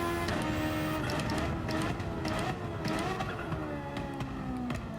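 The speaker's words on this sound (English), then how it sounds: "So good going down through the gears on this car." A car engine in Gran Turismo 7 drops down through the gears, its steady loud drone stepping in pitch with rapid blips and shifts and a faint tyre hiss beneath, with no talking.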